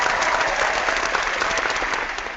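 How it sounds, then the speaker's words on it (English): Steady crowd applause fills the stretch, dense and sustained clapping from many hands at close range, tapering slightly toward the end, with no voices above it. "we will then judge your answer and give you either applause"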